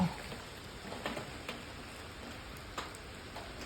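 Rain falls on a garden plot, a faint, steady patter with a few sharper drops ticking at irregular moments.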